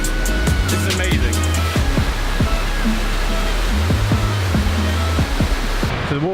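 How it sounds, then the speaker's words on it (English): Loud, steady roar of the waterfall at Glenwood Springs filling the whole clip, a dense broadband rush of falling water heard up close, with faint voices and low bumps from movement underneath. "So the waterfall's just behind me."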